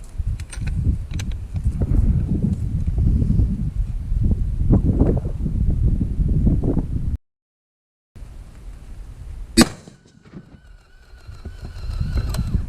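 Strong wind buffets a microphone outdoors at a rifle range, a loud, rumbling low roar that gusts for several seconds, cuts out abruptly, then returns more weakly with a sharp click and a final rising gust.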